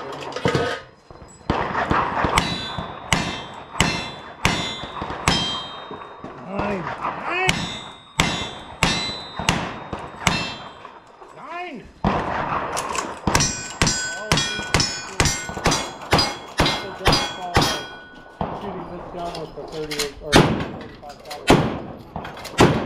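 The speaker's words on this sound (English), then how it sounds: "Shotgun." Shotgun blasts and clanging steel targets at a cowboy action shooting stage, a rapid series of sharp loud bangs and metallic rings, with people talking between shots.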